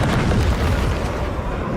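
Units in Total War: Warhammer open fire in a loud, continuous barrage of booming blasts and bursts that rumble together without pause.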